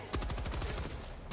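A rapid burst of automatic gunfire in Helldivers 2, fast repeated shots over about a second, fairly loud.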